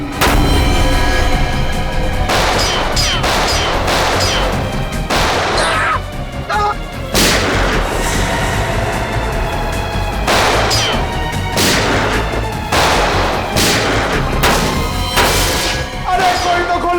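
Loud, rapid bursts of gunfire crack repeatedly in an intense shootout, shots ringing out in clusters with brief gaps between volleys.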